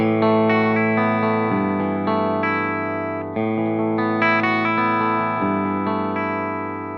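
PRS electric guitar played through a true single-coil pickup: clean, chorused chords ring out and change every couple of seconds at steady loudness, with a faint underlying hum.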